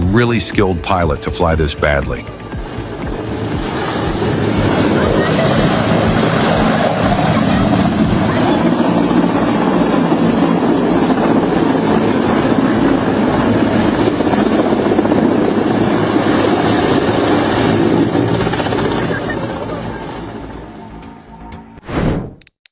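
A helicopter roars loudly and continuously with a thumping rotor chop, close by, fading slightly near the end.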